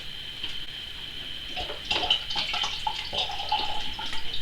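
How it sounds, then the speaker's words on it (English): Pale dandelion-infused liquid draining through a filter into a container, a soft steady trickle and dripping with small gurgles, moderately close and heard alone. "just going to let this drain for a minute"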